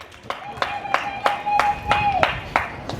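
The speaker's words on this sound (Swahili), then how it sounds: "Na watu wenye ulemavu nao wamepata, piga makofi tafadhali." An audience at a government event on loans for women, youth and people with disabilities claps in a steady unison rhythm, sharp, evenly spaced claps close by, with a voice carrying over them.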